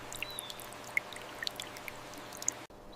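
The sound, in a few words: irrigation water dripping onto newly planted mango trees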